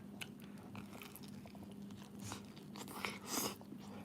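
Someone bites into a crunchy tortilla pizza topped with cheese, onions and pepperoni, giving a few close, quiet crunches and chewing sounds with no talking.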